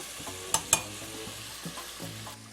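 Fish pieces frying in hot oil for tacos, a soft steady sizzle with a couple of sharp metallic clinks near the start and a few dull knocks later.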